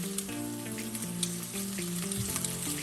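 Cornflour-coated noodles frying in hot oil for a Manchow soup, a steady continuous sizzle and crackle filling the whole stretch with a constant background hum, no talk.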